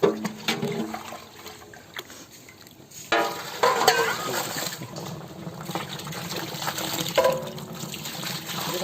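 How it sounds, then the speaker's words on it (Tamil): Water from boiled goat meat pours and splashes into a pot, a steady liquid rush with sloshing surges, loud and close, no voices. "கெடாவை அவிச்ச தண்ணியை இப்போ ஊற்றிக்கலாம்"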